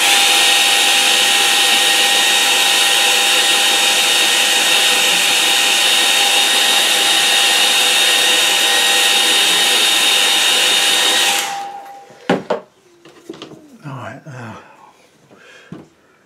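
A hair dryer blows on a watercolour lake painting with a loud, steady whine for about eleven seconds, then winds down and stops, and a person starts talking after it.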